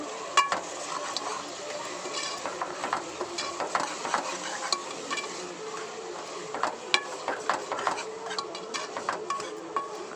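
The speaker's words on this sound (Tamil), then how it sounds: "நல்லா ஃப்ரை பண்ணிக்கலாம்" Tomato curry with drumstick sizzling in a pan with steady stirring and scraping, utensil clinks scattered throughout, moderately quiet and close, no voices.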